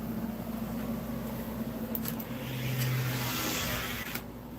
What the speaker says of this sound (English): This car sounds really good.